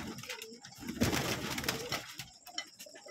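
Pigeons and doves coo at a pigeon farm, including a female turtle dove, with repeated soft coos and calls and a denser burst of birdsound and fluttering through the middle, all fairly close.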